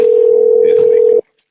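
A telephone dial tone hums at a steady, loud, unbroken pitch while a call is placed, then cuts off abruptly after just over a second. Faint background voices sit beneath it.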